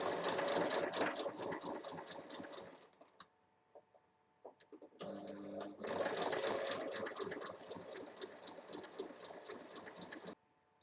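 A sewing machine stitching along the full length of a zipper sewn to fabric and lining for a pouch, running in a fast, continuous buzz, pausing for a few seconds with light clicks, then resuming for a second long run.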